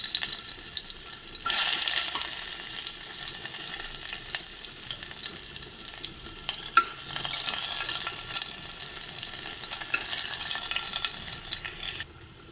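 Chopped onions fry in hot oil inside a pressure cooker for chicken pulao, a continuous bright sizzle that starts abruptly and holds steady, with faint stirring scrapes, then cuts off near the end.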